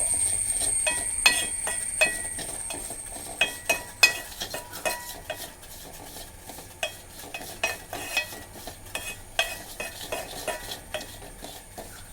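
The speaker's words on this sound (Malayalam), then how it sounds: "അത്രയും സമയം ഒന്ന് ഇളക്കി കൊടുക്കാം." Fenugreek and asafoetida roasting in a pan for mango pickle are stirred with a spoon, making repeated close scraping and clinking strokes in an irregular rhythm over a faint sizzle, with no voices.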